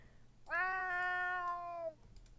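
A video game cat gives a single clear, drawn-out meow of about a second and a half. It stands alone against a quiet background.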